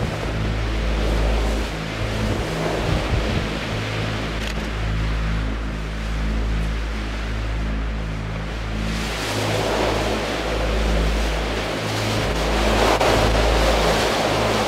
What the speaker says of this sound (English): as you can see, it is just unreal wind